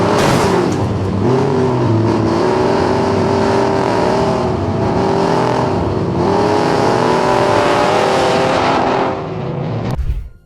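A loud car engine revs hard and roars continuously, surging and rising in pitch over several seconds before cutting off abruptly at the end.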